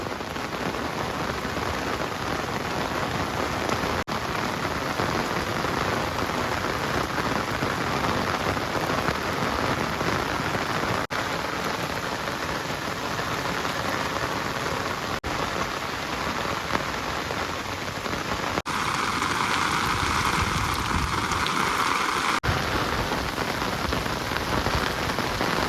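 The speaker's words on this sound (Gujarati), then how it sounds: "વરસાદ તો ક્યારુંનો ચાલુ છે" Heavy rain pours down steadily over a village, a dense, continuous hiss of drops on surfaces that holds its loudness throughout with no voices.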